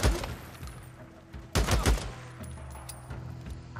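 Gunshots in the Days Gone video game: an opening burst, then a louder cluster of shots, and a few faint pops trailing off, with no voices.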